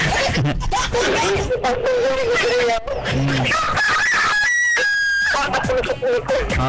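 A rooster crows out loud in several drawn-out calls, with clucking fowl around it and people talking through much of it.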